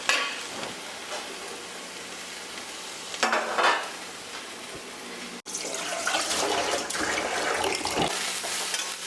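Shredded snake gourd thoran with coconut is stirred in a pan, a continuous moist frying hiss broken by louder scraping bursts of the spatula, close and without talk.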